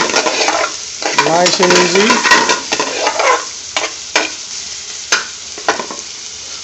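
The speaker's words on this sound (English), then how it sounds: "Can you hear the sizzling going on?" Onions sizzle in a frying pan for saag paneer with a steady hiss while a spoon stirs and scrapes, and a voice speaks briefly over it.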